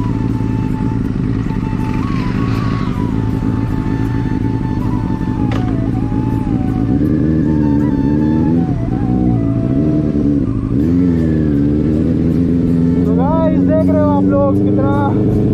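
A Benelli 600i motorcycle engine runs close by after crash repairs, idling loudly and then revving repeatedly, its pitch rising and falling with each twist of the throttle.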